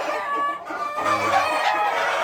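Native Sentul kampung chickens on a farm cluck and call continuously, with a crowing-like note among them. The flock sounds close and fairly loud, and no one speaks.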